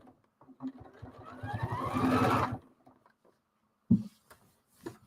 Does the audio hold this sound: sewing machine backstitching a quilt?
yes